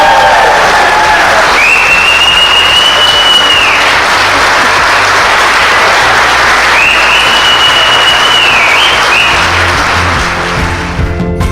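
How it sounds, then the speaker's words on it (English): A church congregation claps loudly and continuously for about eleven seconds, a dense wash of hands that stays strong to the end, with a few faint tones in the background. "Let's give them a round of applause."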